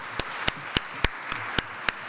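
Audience clapping at a panel discussion, a short burst of sharp, evenly spaced hand claps, steady and close.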